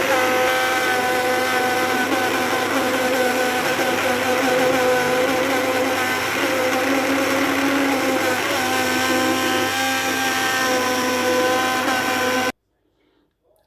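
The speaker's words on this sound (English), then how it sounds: "just take a hand blender" A hand blender whirs steadily at high speed for about twelve seconds, loud and close, blending potato, leek and onion soup, then cuts off abruptly into near silence.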